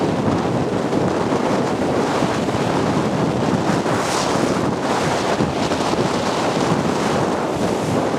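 Strong wind buffets the microphone near the Lummi Island ferry dock, a loud continuous roar mixed with surf and choppy water, steady throughout with no voices.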